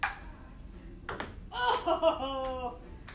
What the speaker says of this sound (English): Hit the edge of the table and bounced into the pylon.